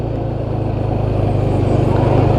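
A motorcycle engine rumbles steadily up close with a low, pulsing throb that grows slightly louder while riding past rice paddies.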